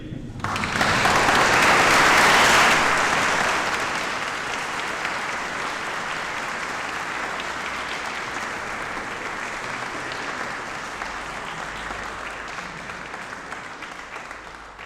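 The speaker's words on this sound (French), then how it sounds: "Vous l'applaudir." A congregation applauds during a church installation of a priest, the clapping swelling quickly to a loud peak in the first seconds, then settling into a long, steady, slowly thinning round.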